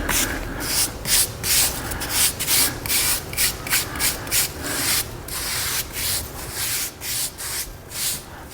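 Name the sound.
brush scrubbing Alcantara steering wheel fabric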